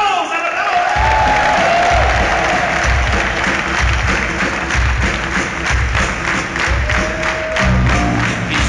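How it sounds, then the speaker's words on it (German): Applause from a concert crowd at a show in Dortmund, with dense clapping and cheering that fills the hall at a loud, steady level, while a drum beat pulses underneath. "Und dafür einen kleinen Applaus! Einen Applaus!"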